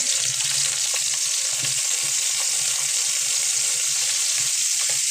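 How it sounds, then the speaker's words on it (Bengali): Onion, garlic, cumin and spices sizzle loudly in oil in a kadai while being stirred. A dense, continuous frying hiss comes with soft rhythmic scraping from the stirring spoon, close and without voices. "এখন মশলাটা ভালোভাবে নেড়ে চেড়ে দিলাম"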